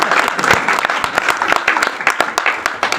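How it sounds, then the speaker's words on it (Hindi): An audience at a Hindi comedy poetry show bursts into loud, close applause, uneven hand claps rising and falling over a few seconds. "एक बार उनके सम्मान में जोरदार तालियां"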